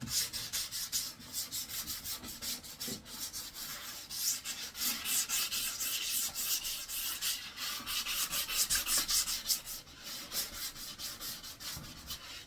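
Sandpaper rubs over a four-foot-long wooden house sparrow nest box with eight chambers in continuous, rhythmic rasping strokes, close and fairly loud throughout.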